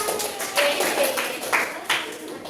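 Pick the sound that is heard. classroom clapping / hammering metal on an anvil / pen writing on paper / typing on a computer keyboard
classroom clapping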